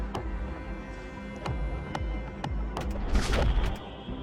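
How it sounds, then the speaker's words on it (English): Weapon fire from a ship battle in the space strategy game Void War, where Magnetic Pulse and Thunder Cannon weapons are in play: several sharp shots and bursts crack out over a steady game hum, with a denser flurry of blasts near the end. "Here comes the first shot."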